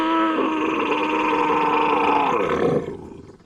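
A raw human voice pitched down eight semitones into a deep creature roar, one sustained growling bellow lasting about three seconds that trails off, close and loud with no other sound.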